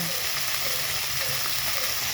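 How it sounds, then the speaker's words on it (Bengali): Fish pieces frying in hot oil in a wok, a steady dense sizzle running evenly throughout with no talk. "লাল লাল করে ভালো করে সুন্দর করে ভেজে নিতে হবে মাছগুলো"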